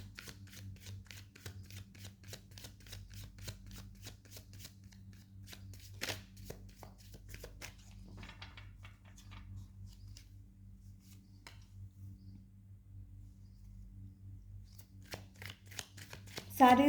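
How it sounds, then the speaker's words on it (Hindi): A deck of tarot cards is shuffled in rapid, rhythmic riffles of crisp flicking snaps that stop and start, close by and moderately quiet, with a low hum and occasional soft voice in the background. "लास्ट शफल करेंगे"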